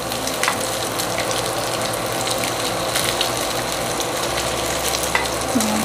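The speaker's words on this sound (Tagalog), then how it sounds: "And then, lagay na natin yung rice." Cooked rice tipped into a hot pan for Spam egg fried rice crackles and scrapes, a dense continuous sizzle with rattling stirring noise throughout, loud and close, no voices.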